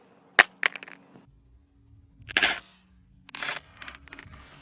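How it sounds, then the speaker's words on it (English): Samsung Galaxy S6 Edge dropped face down onto its rear glass, striking a hard surface: a sharp crack followed by a quick bounce, then louder clattering impacts and a final rattle as it settles, close and with no talk. "Rear glass face down drop test in 3, 2, 1."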